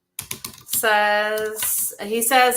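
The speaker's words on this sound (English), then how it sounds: "I don't do good with typing and talking." Computer keys clatter in quick bursts at the start, then someone talks over the scene as the typing fades beneath his voice.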